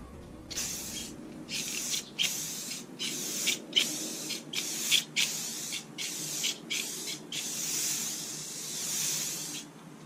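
Clear coat goes onto car headlights on a 2002 BMW 540i (E39) in about ten short, hissing spray bursts. The bursts come at a fairly even rhythm and sound close and moderately loud, with brief pauses between them.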